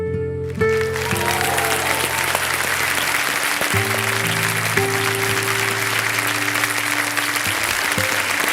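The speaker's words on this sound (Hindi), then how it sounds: "ये ताली आपके लिए बजाए जा रहे हैं" A TV quiz show audience, Kaun Banega Crorepati, bursts into sustained loud applause, dense clapping that runs the whole stretch with steady musical tones playing underneath.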